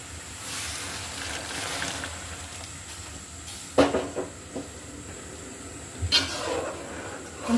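Broth water goes into a hot pan of snakehead fish curry with cauliflower and flat beans, giving a broad steady hiss and steamy sizzle with a few sharp clanks near the middle and toward the end.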